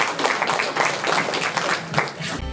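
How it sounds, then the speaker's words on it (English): A crowd claps to welcome a speaker at a corporate launch event. The applause is loud and close, with a pulsing, somewhat rhythmic swell over a brief stretch. "Let's welcome, ladies and gentlemen, with a big applause, Roslyn Khan."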